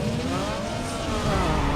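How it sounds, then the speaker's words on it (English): A car engine in a Need for Speed Underground 2 drag race revs high and steady, a loud continuous game-engine roar sustained throughout with a slight swell near the end. "Whoa, this is high revving."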